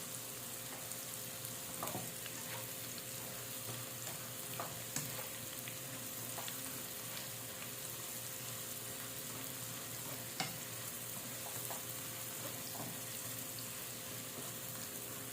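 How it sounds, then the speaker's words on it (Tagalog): Tofu frying in a pan makes a steady, soft sizzle and crackle throughout, with occasional faint clicks and scrapes, heard alone without talk. "Yan, tapos na po tayo mag-fry."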